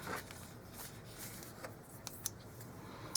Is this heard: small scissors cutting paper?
yes